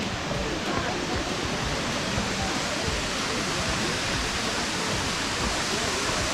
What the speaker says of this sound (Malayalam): അടിപൊളി വെള്ളച്ചാട്ടമാണ്.